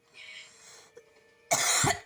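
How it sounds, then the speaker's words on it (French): A single harsh cough bursts out close by after a quiet stretch with faint background sound. "Encore désolé si je tousse."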